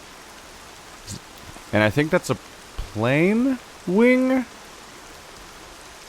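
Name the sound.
rain falling in video game Horizon Zero Dawn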